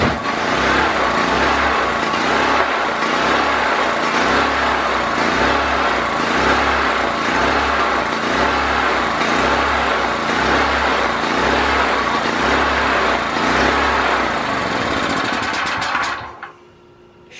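A Predator 4000 generator engine runs close and loud with a steady, even pulsing drone for most of the time, then cuts out abruptly near the end.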